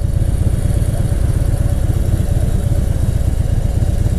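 A motorcycle engine idles steadily at a red light, a close, even low throb with rapid pulsing and slight mechanical clatter, continuous with no talking.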